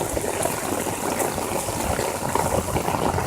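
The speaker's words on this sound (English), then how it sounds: "It is pouring outside right now in Norman." Heavy rain pours down during an afternoon thunderstorm in Norman, a loud, dense, continuous hiss and splatter heard close up from under an umbrella.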